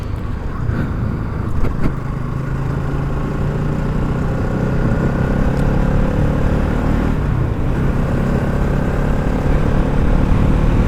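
A motorcycle engine running continuously while being shifted through gears without the clutch, a loud, close, steady drone with brief dips and pitch changes at each shift, plus wind rush and no talking.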